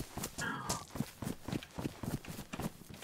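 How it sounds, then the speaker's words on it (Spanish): Horse in the video game DayZ, its hooves beating out a steady, rhythmic clip-clop at close range for about three seconds, with a brief whistling tone early on. "Pero es un puto caballo."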